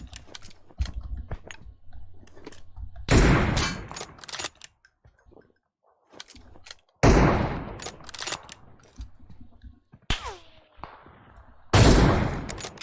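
Gunfire from the mobile battle game PUBG Mobile on the Erangel map comes in several sharp, loud bursts separated by quiet gaps, with scattered single shots and clicks between them.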